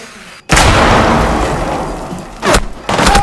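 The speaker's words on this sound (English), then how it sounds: "He's gonna shoot the wall." Gunfire in Rainbow Six Siege, a heavy burst of booming shots into a wall that decays into rubble noise, followed by two more loud bursts close together.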